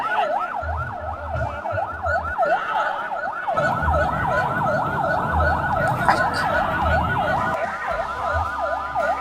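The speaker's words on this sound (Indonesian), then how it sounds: "udah tahu di depan tuh ambulan" An ambulance siren wails in a fast rising-and-falling pattern, loud and close, over rumbling traffic noise throughout.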